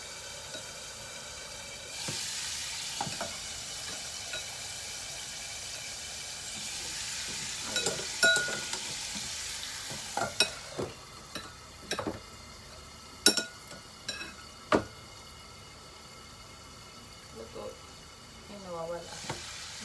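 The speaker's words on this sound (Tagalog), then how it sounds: "So kailangan i-fry mo muna. Pa isa-isa tayo ng lagay. Kasi nitilansik ang ating mga atay." Pieces of pork liver frying in hot oil, added one at a time and spattering: a steady close sizzle broken by sharp pops and the clink of a utensil against the pan.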